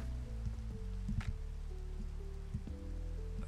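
Rain falls in the video game Minecraft as a soft, continuous patter, quiet and even, over low, sustained game music tones.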